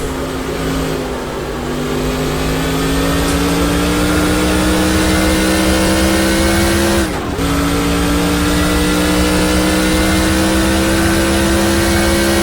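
Race car engines in NASCAR Racing 2003 during a Busch North race, a loud continuous drone that climbs slowly in pitch, dips sharply once around the middle and then holds steady with steady road noise beneath.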